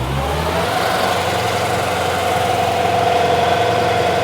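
A New Holland TL-90 turbo diesel tractor revs on a dyno with a loud, close, steady engine roar that climbs slightly in pitch and holds under load.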